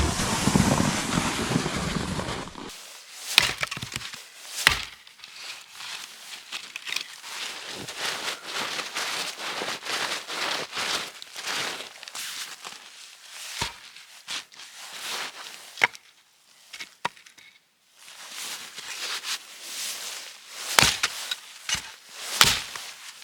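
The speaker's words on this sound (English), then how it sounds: "I've still gotta split all this wood." Splitting firewood at a winter campsite in Michigan's Upper Peninsula, with a loud rush of wind or noise at the start, then a long series of sharp, irregular chopping cracks and thuds of wood, close and alone.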